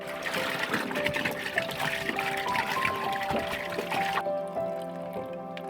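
Warm water that was heated over a campfire pours steadily from a bucket, splashing and trickling close by for several seconds before cutting off abruptly.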